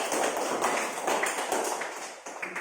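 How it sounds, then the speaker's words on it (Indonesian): Indonesian classroom students applauding the kinesthetic group after its presentation on rukhsah in prayer, a dense, steady patter of many hands clapping at once, moderately loud and continuous for a few seconds with no talk. "tepuk tangan untuk kelompok kinestetik"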